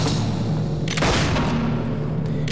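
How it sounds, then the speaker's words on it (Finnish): A gunshot booms in the video game Fable II, one loud burst in the middle over a steady rumbling game backdrop, with no talking. "sit ammutaan vähän lisää hoppeja"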